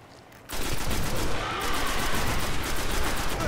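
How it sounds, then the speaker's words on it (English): Heavy weapon fire in Destiny, a loud unbroken stream of rapid automatic shots that starts suddenly after a brief quiet moment and keeps going to the end. "It was that acolyte that shot me with that heavy weapon."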